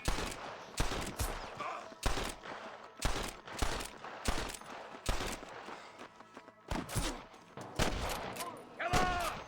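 Rapid gunfire in Red Dead Redemption, with a dense series of sharp, loud shots fired in quick bursts through a chaotic battle scene and short gaps between volleys.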